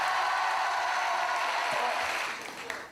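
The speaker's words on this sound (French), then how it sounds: "Le spectacle de Stéphane, on l'applaudit bien fort." Sustained audience applause at a stand-up comedy show, a dense wash of clapping that holds steady and then starts to thin out near the end.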